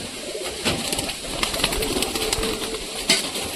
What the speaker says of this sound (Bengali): সব কবুতর ধীরে ধীরে এক এক করে বেরোচ্ছে।